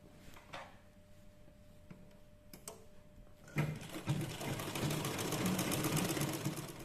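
A sewing machine top-stitches a blouse; a few quiet handling clicks come first, then the motor starts and runs a fast, steady, close needle rhythm for the last few seconds.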